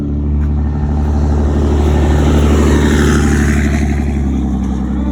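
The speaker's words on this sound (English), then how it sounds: "that's got to be the 5th noisy, smelly truck that has passed us" A heavy truck engine rumbles loud and close, a steady roaring drone that swells slightly as it passes.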